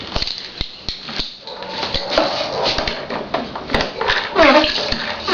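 Water sloshes and splashes in a tub at close range, with irregular bursts and slaps while people talk over it.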